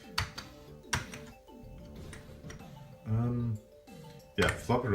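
A Commodore Amiga 500 Plus floppy drive reads a disk with a quick run of ticking, clicking seek steps repeating at a steady rhythm, close by and moderately loud, while a person talks over it.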